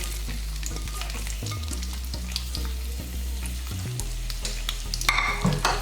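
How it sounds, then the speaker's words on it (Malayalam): Onion, dried red chillies and curry leaves sauté in a pan for a Kerala coconut fish curry, giving a continuous close sizzle with repeated spoon stirs and scrapes and a louder clatter near the end, with no talking. "അതൊന്ന് നമുക്ക് നല്ലവണ്ണം വഴറ്റിയെടുക്കാം. നമ്മൾ സവാള, വറ്റൽമുളക്, കറിവേപ്പില ഇട്ട് നമുക്കിതിനെ ഒന്ന് വഴറ്റി"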